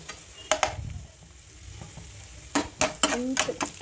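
Ginger garlic paste frying with onion stalks and tomatoes for a curry, a low sizzle broken by clustered clatters and scrapes of a spoon against the pan.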